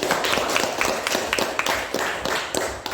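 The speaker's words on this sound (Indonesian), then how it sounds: "Oke, tepuk tangan buat Fandi." Students in a classroom clap for a classmate named Fandi, a brisk, uneven burst of many hands with distinct sharp claps standing out, close and fairly loud for a few seconds.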